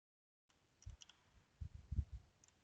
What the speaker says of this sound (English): I'm going to use my arrow keys to bring it to a vertical position